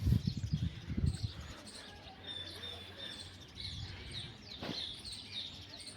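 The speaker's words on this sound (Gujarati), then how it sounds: "ચકલીઓના અવાજ સાંભળો તમે" Sparrows chirp and tweet in high, scattered calls over a soft morning outdoor background, with a few low thumps early on and a brief sharper call midway.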